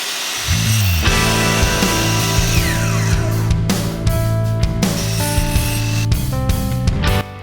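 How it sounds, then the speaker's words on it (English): A power saw cuts a wooden board while framing doors and windows for an arched cabin kit, a loud, close, sustained motor whine running almost unbroken for about seven seconds. "I went just a smidge past it so it would be just on that line when I cut it"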